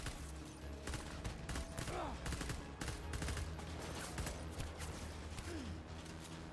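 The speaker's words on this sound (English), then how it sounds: "These are just guns." Gunfire in the video game Death Stranding, with rapid bursts of shots and clattering fusillades rattling continuously over several seconds, sitting at moderate level under faint background movement.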